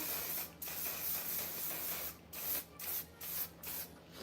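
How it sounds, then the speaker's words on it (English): Several short hissing bursts of a makeup setting spray bottle, one isolated then a rapid run of pumps, close and fairly quiet. "you definitely do want to have some room when you spray this one"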